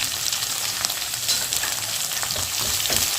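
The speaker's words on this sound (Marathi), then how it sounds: "हिरवे वटाणे आणि कांदा दोन्ही एकदम भाजा" Green peas and onion fry together in oil with garlic and ginger for a cabbage-and-pea dish, making a close, continuous sizzle with occasional stirring clatter.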